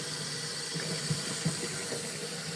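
Hot water runs steadily from a tap into a slop sink, a constant rushing hiss with faint splashing, alone and fairly close.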